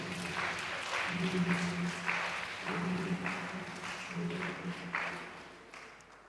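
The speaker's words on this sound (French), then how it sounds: "Tu veux bien acclamer le Seigneur?" A church congregation applauds and acclaims the Lord during a Sunday worship service: steady, dense clapping and cheering that holds for several seconds, with a low sustained tone underneath before it begins to taper off.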